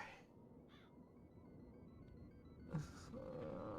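Bird calls in the Doom WAD Golden Souls 2 video game, a few short, faint caws and squawks over a low game hum, ending in a brief flurry of sound.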